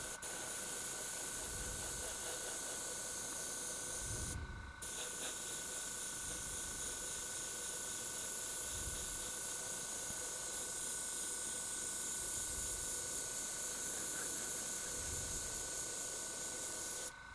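An airbrush sprays paint onto a large 3D-printed figure in a steady, close hiss that runs almost continuously, briefly cutting out once, with a faint low hum behind it.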